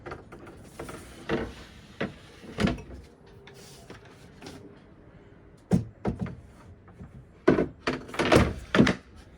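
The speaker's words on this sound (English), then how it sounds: "the door mechanism slides in like this" Sliding door mechanism aboard a Dufour 530 sailboat: a series of close, loud wooden thunks and knocks with short scraping slides between them, irregular and bunched near the end, with no talk.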